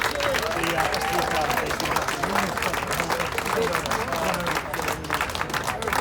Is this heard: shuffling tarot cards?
no